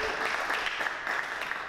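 Steady audience applause at a stand-up comedy show, a dense wash of clapping that holds at an even level throughout.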